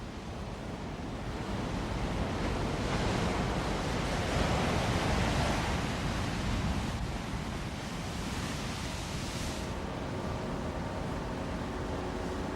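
Ocean waves break on an Andalusian beach near Baelo Claudia, a windsurfing spot, making a continuous broad surf wash that rises and falls, with wind buffeting the microphone and no voices.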